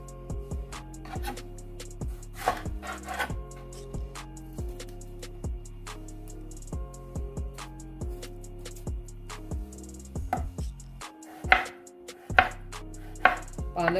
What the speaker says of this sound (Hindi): इसी तरह से ये टमाटर भी काट कर इसके अंदर ऐड कर देंगे।